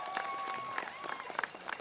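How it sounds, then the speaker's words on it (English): An audience at a Pleasant Grove school send-off to state in Texarkana claps in a short, scattered burst of applause, moderately loud and close, with some voices mixed in. "Y'all give them a round of applause."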